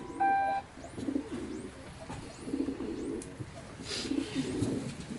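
Soft pigeon coos repeat a few times at low volume amid quiet background noise, opening with a short electronic beeping tone.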